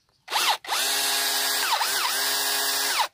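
A Tanzu cordless drill whirs loudly up to speed, cuts out briefly, then runs again with its high whine rising and dipping before stopping, close by.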